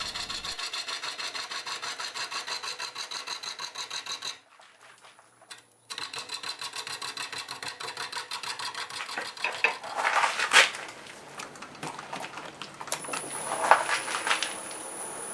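An apple wood bowl spins on a wood lathe, the tool rubbing and scraping against the uneven blank in a steady rhythmic chatter, broken by a brief quiet pause before cutting resumes with sharper bursts.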